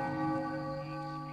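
A bell tolling in Thief II: The Metal Age, a sustained metallic ring with rich layered overtones, loud and close, holding steady without talk.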